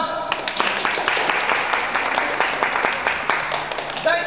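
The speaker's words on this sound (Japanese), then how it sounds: "5位のチームから発表いたしますので、大きな拍手をお願いします。" Hall-wide clapping rolls on steadily with crisp individual claps standing out through the crowd applause at a 2010 futsal tournament awards ceremony, as a team placing is announced.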